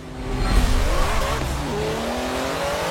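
Race car engine and tire squeal at the Hockenheimring in a racing video game, a loud droning engine with rising revs and a brief skid, steady throughout.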